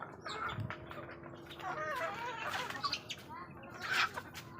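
Hens cluck and squawk in short bursts amid a busy outdoor farmyard, with a steady low hum and occasional wing flaps.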